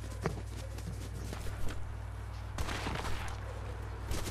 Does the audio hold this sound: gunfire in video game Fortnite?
yes